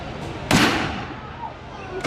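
A single loud cannon blast booms on a Disneyland ride, a sharp burst followed by a decaying rumble, with a fainter pop near the end and crowd ambience around it.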